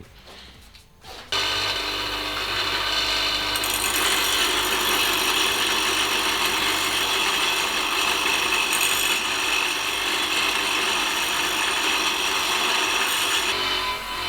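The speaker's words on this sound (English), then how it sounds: "then I'm going to get it closer with the grinder, slowly massage it until it's exactly meeting up perfectly with that shape" An angle grinder steadily shapes an exhaust crossover pipe for a turbocharged V6 Toyota Camry, a continuous loud, harsh whine that starts after a brief pause and runs to the end without talk.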